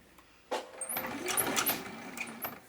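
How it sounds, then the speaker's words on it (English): A sewing machine stitches around the top edge of a fabric bin made from fat quarters, a steady mechanical whir starting after a brief pause and running continuously at close range. "So I am going to be sewing around this top edge."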